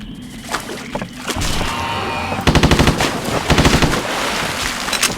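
Bursts of rapid machine-gun fire in the video game BloodRayne, several rattling volleys in quick succession, loud and close, with a few single shots before them.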